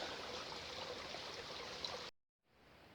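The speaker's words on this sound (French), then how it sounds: "Voilà, on voit l'eau de la rivière." A river runs along the GR10 trail in the Pyrenees, a constant rushing stream of moderate loudness that cuts off abruptly near the end and then returns faintly.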